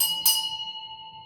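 A single bell struck once, a bright clang that rings on with a clear sustained tone and slowly fades, close and alone.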